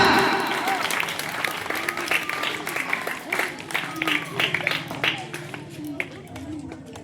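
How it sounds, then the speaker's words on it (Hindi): Applause from students and teachers at a school debate competition, with scattered claps of moderate loudness over chatter and voices in the room. "श्वेता के लिए जोरदार तालियां।"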